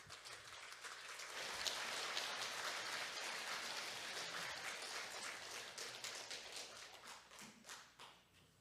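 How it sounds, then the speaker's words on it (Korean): A congregation at a Won Buddhist temple in Hangang gives sustained applause to welcome a minister about to deliver a Dharma talk, a dense wash of clapping that swells early, holds steady and then fades out. "모두 박수로 환영해 주시기 바랍니다"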